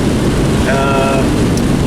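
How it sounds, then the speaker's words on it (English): Heavy rain pours steadily outdoors, a dense, loud, unbroken hiss and patter across the whole stretch with no breaks. "it's raining like crap"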